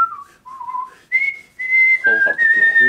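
A person whistles a wandering melody in short phrases with brief pauses, clear and close. Toward the end, quieter voices and laughter sit under the tune.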